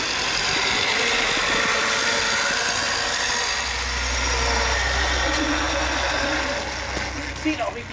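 An Iseki walk-behind tractor converted to electric drive runs with a steady mechanical hum and a low drone that rises midway, under someone talking throughout.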